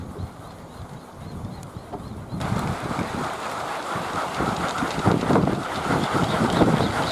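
Gusty wind blowing outdoors around a kolecer, a traditional spinning wind toy on a pole, rising into a stronger rushing roar partway through with steady whirring underneath.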